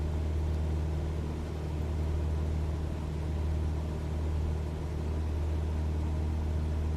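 Steady, loud drone of a Cessna 172's piston engine and propeller at 2700 RPM in cruise at 130 knots, heard continuously from inside the cabin with a deep, even hum and no talk.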